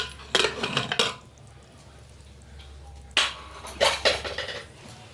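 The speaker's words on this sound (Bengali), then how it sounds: "তো 6টা সিটি হয়ে গেছে, এখন আমি ঢাকনাটা খুলে নিচ্ছি।" A pressure cooker lid being opened after boiling potatoes and soya chunks: metallic clanks and rattles of the lid against the pot in two clusters, with a quiet gap between them.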